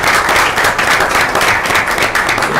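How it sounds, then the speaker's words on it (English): Loud, sustained applause from an audience at a school board meeting, honoring a foundation and teachers, with dense, steady clapping throughout and no clear voices. "So let's give a round of applause to this foundation and our teachers."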